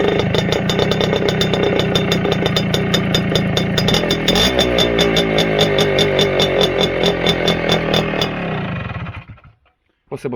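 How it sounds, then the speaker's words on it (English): A Tomos APN 4 moped engine cold-starts and runs with a rapid, rattling two-stroke putter, loud and close, its pitch shifting partway through before it cuts off and falls silent near the end. "And firstly, the cold startup."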